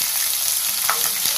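Onions frying in hot oil with golden-brown garlic, a steady loud hiss of sizzling with a couple of brief crackling pops, alone and without voices.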